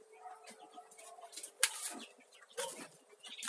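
Newly hatched chicks peep and hens cluck softly nearby, with scattered chirps, a brief sharp burst and light rustling among the birds.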